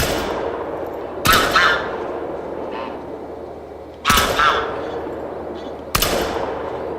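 Three loud shotgun blasts ring out during a goose hunt in The Hunter: Call of the Wild at Salzwiesen Park. They are spaced several seconds apart, each with a sharp crack and a long fading echo, and faint bird calls sound between them.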